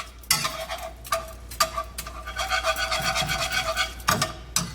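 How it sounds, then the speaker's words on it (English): A whisk clicks and scrapes against a pan while vegan butter is worked into a marsala sauce, a close, rapid rhythmic stirring broken by a few sharp taps, with no talk. "now I'm going to add about 2 more tablespoons of the better butter from Chef Sky Michael Conroy's cookbook. And I'm going to whisk it in there."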